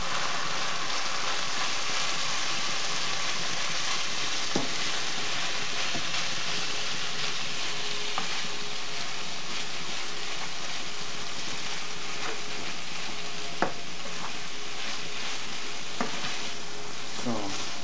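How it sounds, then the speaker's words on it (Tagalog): Ground pork sautés in a pan for a Filipino-style pasta sauce, a steady broadband sizzle running throughout with occasional sharp clicks of stirring against the pan, no talk. "I-saute natin, haluin ng haluin. Haluin ng giniling."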